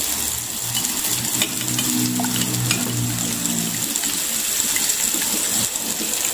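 Sizzling and clattering of tomato and egg being tossed in a hot pan, a steady frying hiss with scraping stirs throughout.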